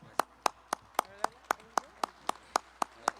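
A slow, even series of about eleven sharp claps rings out at a national and international congress of Ayacucho music, with faint talk between the claps.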